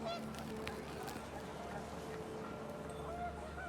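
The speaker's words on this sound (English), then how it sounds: "The wind picked up and panicked geese appeared and quickly went." Panicked geese honk in the video game What Remains of Edith Finch, a few short honks over a steady windy background ambience, with a faint voice-like murmur in the mix.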